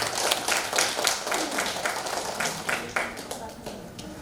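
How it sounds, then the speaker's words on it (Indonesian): Participants in a competency-based skin beauty care training session clap together, a dense, steady stretch of applause at moderate distance with no speech over it. "Tepuk tangan untuk semua."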